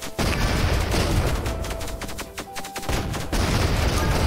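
Rapid projectile shots fired from a submarine launcher mod in the Octogeddon video game, a dense crackling volley of repeated bursts running nearly the whole time, loud and close, with a short lull near the end before firing resumes.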